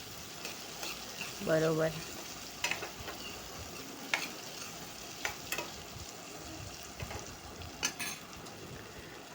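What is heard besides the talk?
stirring chopped cluster beans in a pan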